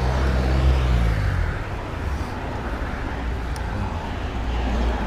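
Road traffic rumbles past a cyclist on a training ride from London toward Brighton. A loud, continuous low roar of vehicles stays close by, with a heavier engine swelling early on.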